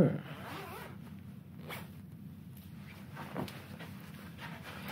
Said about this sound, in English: Zip me up.